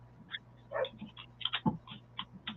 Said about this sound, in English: I hear your doggies in the background.